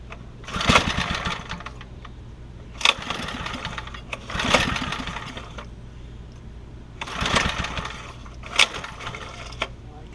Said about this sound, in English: I'm going to see if it'll start, and I'm going to adjust the carburetor first.